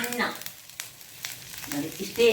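A pan sizzles softly over a low flame while alasande beans and drumstick greens masala fry, a gentle steady crackle with faint stirring in a brief stretch.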